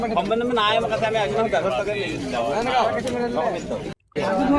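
Pigeons coo and call at a busy village pigeon market, the soft warbling calls continuous and close, mixed with steady crowd chatter and a brief dropout near the end.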